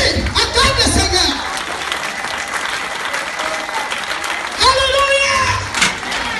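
A church congregation at a French-language Christian crusade service claps and cheers loudly and steadily, with bursts of voices rising over the applause near the start and again toward the end.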